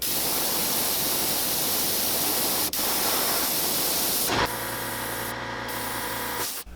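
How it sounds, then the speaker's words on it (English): Airbrush hissing steadily as it sprays paint onto a handmade sunfish-style fishing lure, a continuous close airy spray that cuts off briefly and then resumes more quietly before stopping. "Sprayed the same angle the whole time, so there's a little bit of yellow on the legs."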